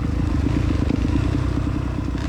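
Two-stroke dirt bike engine ridden through tight trail terrain, a steady loud buzzing drone with constant throttle and some clattering, no talk.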